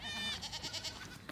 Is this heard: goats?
yes